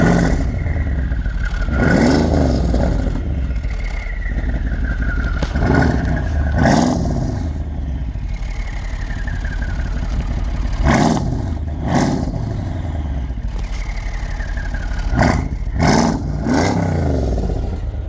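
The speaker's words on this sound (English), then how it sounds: "So when you hit the gas a little bit, you can hear turbo spool." A Mercedes-Benz engine fitted with custom downpipes revs in repeated blips, with rising turbo whistles sweeping up after each press of the throttle and a steady idle in between.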